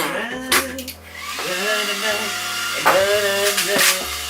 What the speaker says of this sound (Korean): 드라이기 소리가 끝날 때까지만